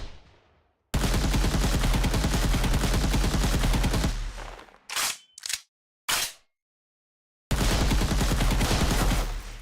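Rapid automatic gunfire in an Unreal Engine 5 game project, loud dense bursts lasting several seconds, then a few short volleys, a gap of silence and another sustained burst.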